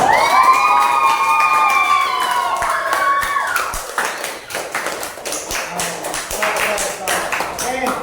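Children in a classroom clap and cheer together. Bright shouts ring out at the start, then scattered claps and lively crowd noise carry on, with voices mixed through.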